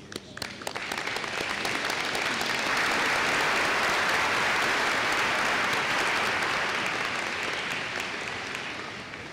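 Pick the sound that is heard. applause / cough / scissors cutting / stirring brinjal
applause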